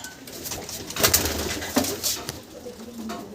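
Soft cooing of domestic high-flying pigeons, a few low murmuring calls close by over light background noise.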